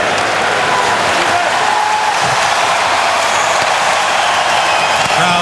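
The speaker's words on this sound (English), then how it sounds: "Crowd appreciates the effort of the Red Wings here." Hockey arena crowd at an NHL game between the Bruins and Red Wings applauding, a steady broad wash of clapping filling the space, with an announcer talking over it.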